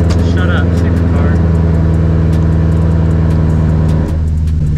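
A BMW E92 M3 engine hums steadily at high revs near a 6,500 RPM limit imposed by an airbag fault, loud and close, holding its pitch before dropping slightly near the end.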